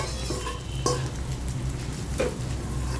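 Soaked poha goes into a hot pan for kande pohe and is stirred, producing a soft steady sizzle with light scraping and occasional clinks of a spoon against the pan, close and continuous.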